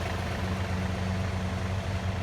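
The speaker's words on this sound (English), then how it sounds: "All right, here comes the tractor" A tractor engine runs steadily at the edge of a forest during brush hogging, a continuous low rumbling drone with no change in pace and no voices.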